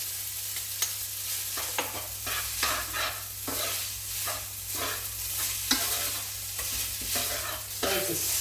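Sizzling pan of steak and spaghetti sauce being stirred after chilli flakes go in, a steady frying hiss with repeated scraping strokes of a utensil against the pan bottom, close and continuous with no talk.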